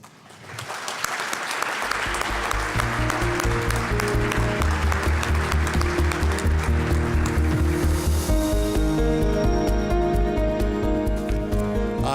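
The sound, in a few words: audience applause welcoming Dean Ken Davis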